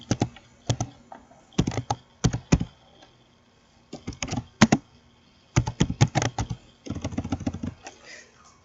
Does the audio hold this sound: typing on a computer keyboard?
yes